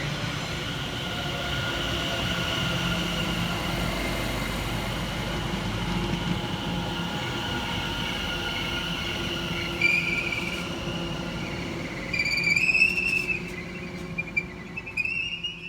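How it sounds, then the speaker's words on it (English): A Greater Anglia train runs fast through Silver Street station with a sustained rumble of wheels on rail, ending in high squeals and whistling metallic tones as it clears the platform. "Passing through fast for Greater Anglia is 7:20:522 and 7:20:512"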